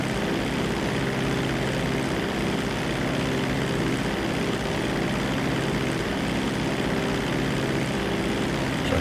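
A propeller aircraft engine in GTA drones loudly and steadily as the plane climbs, a constant close roar filling the whole stretch without talk.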